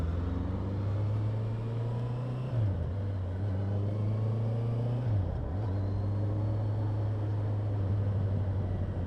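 A truck drives along a road with a steady low engine drone that dips in pitch twice as it shifts gear, close and continuous with no talk.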